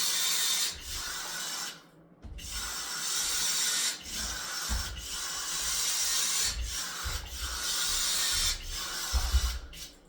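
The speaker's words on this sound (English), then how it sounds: "So I'm going to be getting out my caulk gun, putting dab of caulk on each of these screws and blockers" A caulk gun squeezes out dabs of caulk onto screws and blockers during waterproofing, with repeated ratcheting clicks and squeaky rubbing strokes broken by short pauses between each application.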